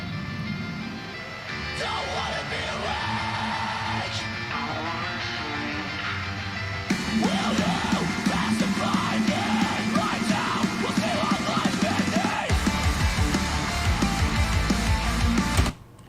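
A song plays loudly, with a sparse opening that builds into dense, driving metal with shouted vocals before cutting off abruptly.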